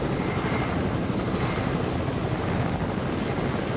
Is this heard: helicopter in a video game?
yes